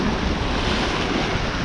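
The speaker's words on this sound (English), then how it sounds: "it's a windy and wild one today" Strong wind and rough surf on a rocky UK sea shore, a dense continuous roar with wind buffeting the microphone, no voices.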